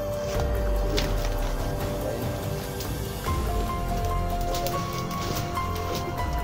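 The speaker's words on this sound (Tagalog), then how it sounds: "Parang may ulan tol, paparak tol." Rain patters steadily on a surface nearby, a constant wash of drops with faint rustling and some tonal background hum.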